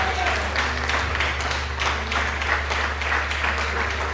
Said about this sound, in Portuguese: Podemos aplaudir para o Senhor Jesus.